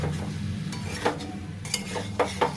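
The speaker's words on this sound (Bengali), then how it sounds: "এভাবে একটু পরে পরে এসে নেড়ে দেবো আমি" Pumpkin and winter vegetables cooking in an open pan, a low steady sizzle with a few sharp clinks and scrapes of a spoon stirring, close by, no voices.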